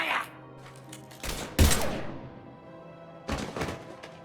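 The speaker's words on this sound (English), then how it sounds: "Now open fire!" Gunfire in the Mass Effect 3 video game: a few sharp, heavy shots in short bursts, separated by quieter gaps, with a faint voice at the start.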